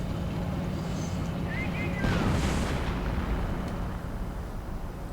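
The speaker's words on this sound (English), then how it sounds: "now with an actual on-map howitzer. Blasting away, going through here as well" An on-map howitzer firing during a 1v1 strategy video game match: one heavy boom with a rumbling tail roughly midway, set in a constant low battlefield din.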